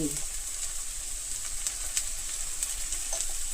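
Okra frying in an oiled pan, a steady close hiss and crackle of sizzling with faint scattered pops, continuous throughout with no talk.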